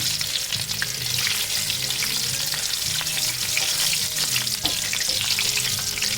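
Pork skin chicharon fries in a pan while being stirred, a dense steady sizzle with faint scraping and clinking of the spoon throughout, close and fairly loud, with no voices.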